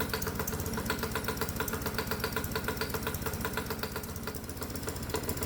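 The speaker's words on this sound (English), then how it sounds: "the engine is running on the alcohol water mix" A hot bulb semi-diesel lawnmower engine runs steadily on an alcohol and water fuel mix, its rapid, even firing pulses close and continuous with no voices.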